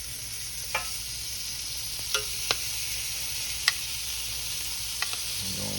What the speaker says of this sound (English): we're gonna put these shrimp right in here, y'all. They ain't gonna take long at all, y'all. We're just gonna grill them off here.